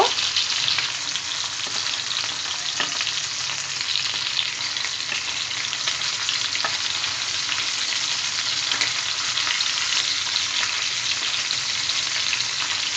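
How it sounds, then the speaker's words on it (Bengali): Tilapia fish fry crisp in a pan of hot oil, giving a steady, even sizzle and crackle throughout with no voices. "মাছগুলোকে কড়কড়া করে ভেজে নিচ্ছি যেন মাছের ভেতরটাও সিদ্ধ হয়ে যায়"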